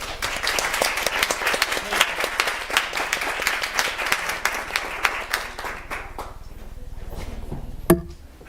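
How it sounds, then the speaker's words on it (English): Board meeting attendees stand and applaud together, a dense burst of clapping close and fairly loud that thins out and fades after about six seconds, ending with a single sharp knock. "I would like us to all stand and give a round of applause for Yvonne"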